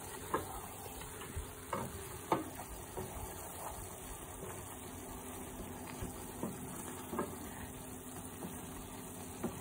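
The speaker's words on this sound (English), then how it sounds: "Now you just mix it all the way through." Seasoning mixed through a sauce in a pan, soft scraping stirs and light knocks of the utensil against the pan over a quiet steady sizzle and hum, faint and close.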